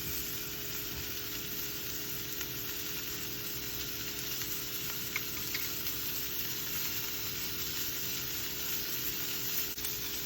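Blackened salmon fillets fry in a pan with a steady, even sizzle, an unbroken crackling hiss that holds at a moderate level with no voices.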